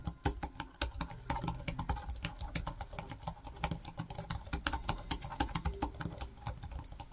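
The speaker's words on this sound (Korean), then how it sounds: "그럼 타건음을 한번 들어볼까요?" Rapid, light clicking of keys typed at a steady pace on a second-generation Mokibo Fusion thin portable keyboard with 1.5mm key travel and 63g actuation, close up and with no talking.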